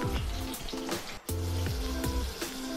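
Chicken leg pieces fry in oil on a low flame, making an even, fairly quiet sizzle broken by crisp spattering pops and one brief drop near the middle, with no speech.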